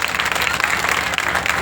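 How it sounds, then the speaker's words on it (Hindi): A village audience at a Bhagwat Katha gathering claps, a short burst of dense, even applause, fairly loud and close. "सब लोग ताली बजाइए।"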